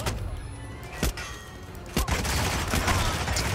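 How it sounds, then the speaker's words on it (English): Several gunshots in the Hitman video game, sharp cracks at roughly one-second intervals over a steady background hum of ambient game sound, with a denser burst of fire near the end. "I made them suspicious with my gunshots."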